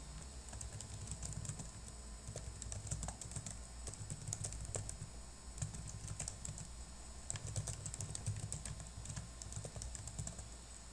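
Quiet, steady typing on a computer keyboard, with rapid light key clicks in irregular bursts continuing throughout, close and without talk.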